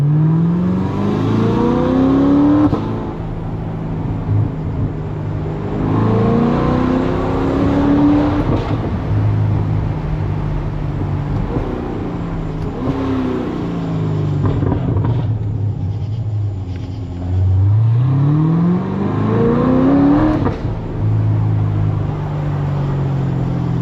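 A 600-horsepower Corvette drives at night, its engine loud and close with repeated rising revs and gear-change sweeps, surging and easing over and over through the run.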